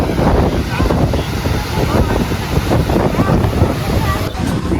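Rough surf at Digha beach, West Bengal, pounds the shore in a loud, constant roar, with wind buffeting the microphone throughout.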